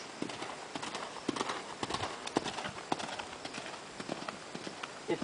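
A horse's hooves clip-clop at a steady, even rhythm during flat work in a riding ring, moderately close and distinct, with occasional faint sounds around them.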